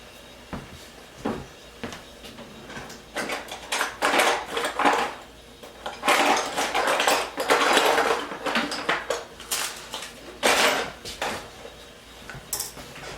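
A utensil stirs baking powder and baking soda together in a mixing bowl, giving irregular clinks and scrapes that grow busier in the middle and then ease off. The sound is close and fairly quiet, with no talking.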